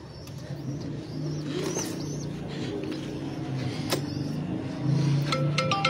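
Pigeons coo from a rooftop pigeon loft in Faisalabad, soft repeated low coos with a few brighter chirps and light traffic noise in the background.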